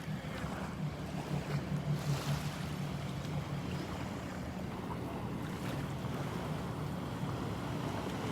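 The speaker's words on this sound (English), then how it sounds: "I think that's a rental jet ski too." A rental jet ski runs out on the ocean off a beach, its engine a low steady drone that swells slightly and fades, heard from a distance beneath wind buffeting the microphone and soft surf.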